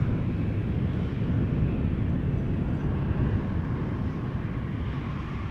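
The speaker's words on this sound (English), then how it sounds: "TUI. Flight 352-7878 Dreamliner arriving from Willemstad, Curaçao." A TUI Boeing 787 Dreamliner arriving at Amsterdam Schiphol from Curaçao gives a steady, low, broad engine roar that stays constant throughout, with some wind rumble and no talking.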